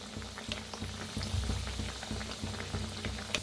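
Boiled eggs frying in oil, a close, bubbling sizzle with quick popping pulses that keeps going throughout.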